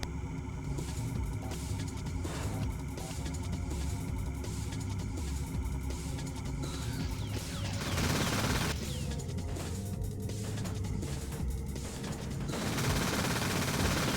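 Rapid gunfire crackles through a firefight in the video game G-Police 2: Weapons of Justice, dense bursts of shots layered over a low droning hum, loud and continuous throughout.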